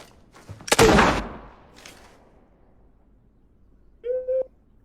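A sharp, loud video-game gunshot with an echoing tail, then a fainter second shot, followed by quiet and a short electronic beep.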